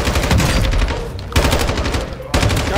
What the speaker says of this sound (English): walking around with just a shotgun and just hip firing is so effective